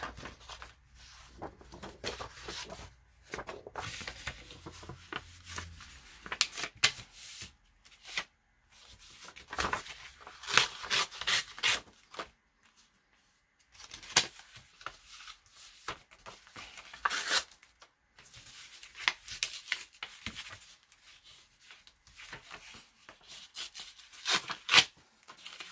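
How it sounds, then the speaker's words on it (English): Paper is torn off in a series of irregular rips and crinkles, bursts of rustling separated by quiet gaps, close and fairly faint with no talking. "I will tear this text part off."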